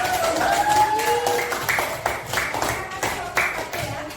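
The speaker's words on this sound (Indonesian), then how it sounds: "Oke, kasih tepuk tangan dulu." A classroom group of teachers claps after a presentation in a coaching session, with steady rhythmic clapping throughout and faint voices underneath.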